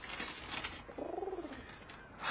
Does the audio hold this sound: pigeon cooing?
yes